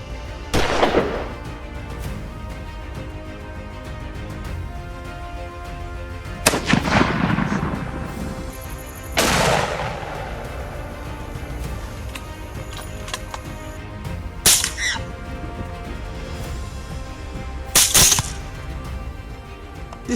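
Suppressed rifle shots ring out during a night wild boar hunt in Texas, five sharp cracks spaced a few seconds apart, each with a brief rumbling tail against a steady low background.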